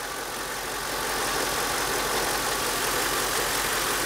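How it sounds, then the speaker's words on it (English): A supercharged Mercedes G55 AMG idling with a dead cylinder and a bad piston, a steady, slightly uneven rumbling hum with a hissing whine on top, heard close and alone. "Now that it's idled down a little bit, it's a little shaky."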